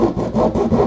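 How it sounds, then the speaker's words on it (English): Hacksaw blade cutting through drywall in a wall, quick rhythmic back-and-forth rasping strokes, loud and close, with no one talking. "Take a hacksaw blade, put it in the wall, and you can cut down with the hacksaw blade"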